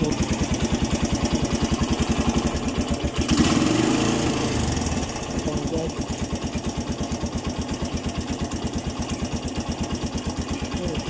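A Suzuki Mola 125 motorcycle engine idles close by with a steady, rapid putter. After a battery fault, the engine briefly swells in a short rev-like surge before settling back into the even idle.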